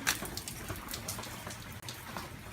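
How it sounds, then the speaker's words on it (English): Rain falling outdoors in a steady, dense patter with scattered sharper drop hits, continuous and fairly close throughout with no talking. "Look at all the rain."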